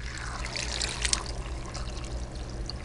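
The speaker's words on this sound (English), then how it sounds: "I'm going to put more water in to cover" Water pouring steadily into an electric pressure cooker while making ham and bean soup, a close, continuous splashing trickle over a low background hum.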